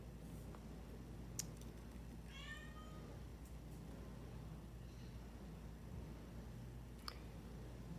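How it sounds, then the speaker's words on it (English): A cat gives a single short, faint meow partway through, against a quiet room tone with a few soft clicks. "That was my cat."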